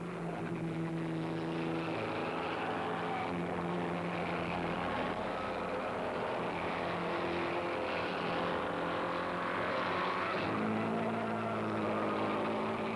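Bugatti race cars at the first Monaco Grand Prix, a steady droning engine roar with shifting pitch that holds for several seconds, moderately loud and continuous, with no talk over it.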